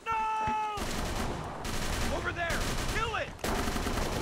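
Shotgun blasts ring out in the horror video game Call of Cthulhu: Dark Corners of the Earth. Four loud booming shots come at roughly one-second intervals, mixed with creature-like wails and game ambience.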